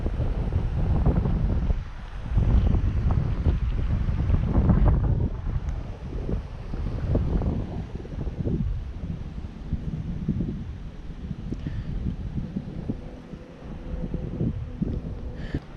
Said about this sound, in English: Kind of blocked by the wind.